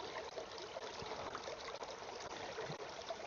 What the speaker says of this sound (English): And then we're going to scoop up some of this creek water.